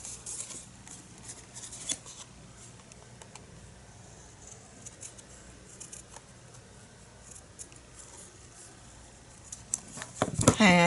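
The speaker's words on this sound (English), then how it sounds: "Now I'm gonna cut this while the other one is drying." Scissors cut paper for a scrapbook journal: faint, scattered snips and paper rustles at close range, with louder handling and crinkling near the end.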